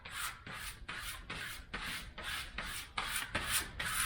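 Rhythmic back-and-forth sandpaper strokes on a varnished wooden canoe paddle, scuffing the old varnish coat, about eight steady even passes, close and clear with no talking.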